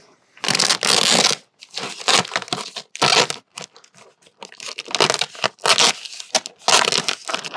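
Roofing material being sliced with a concrete knife during prep for a standing seam metal roof on a cabin, heard as repeated loud crunching, tearing strokes in bursts with short pauses between them.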